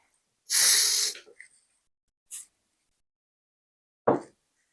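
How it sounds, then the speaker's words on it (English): Two short spray bursts of starch hiss from a pump bottle onto quilting fabric, one long and one brief, followed by a soft thud in a quiet room. "I'm going to spray it across in rows like this"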